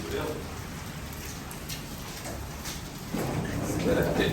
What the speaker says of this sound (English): the rain's coming down like crazy.